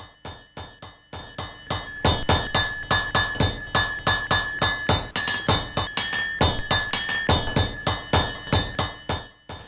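Three hammers ringing in a rhythmic carillon as a blacksmith forges horseshoes on the horn of an anvil, steady clanging metallic strikes with bright lingering ring, close and loud, no talking.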